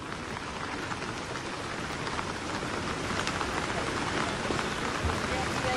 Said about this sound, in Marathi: पालघर जिल्ह्याला मुसळधार पावसाची कोसळधार सुरू आहे